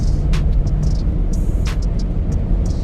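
A Dodge Magnum RT engine runs in 4-cylinder mode, giving a steady low droning rumble from inside the car, with faint intermittent clicks and ticks above it.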